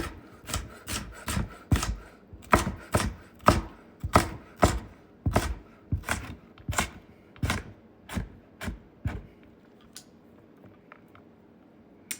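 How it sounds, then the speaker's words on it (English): A knife dices red bell pepper on a cutting board in a kitchen, a steady run of about twenty crisp chops that slows and fades out near the end, with no talking. "I'm just gonna dice these up."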